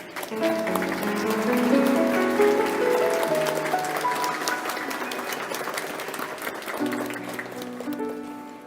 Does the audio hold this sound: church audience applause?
yes